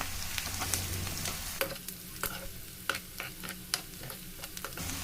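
Onion and green chilli fry in hot oil, a constant bright sizzle broken by repeated scraping strokes of a spoon stirring through the pan, close and fairly quiet.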